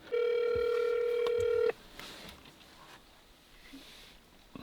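A phone rings through the stereo of a Toyota Tacoma pickup during a Bluetooth call test: one loud, steady electronic ring tone lasting under two seconds, then a quiet cabin.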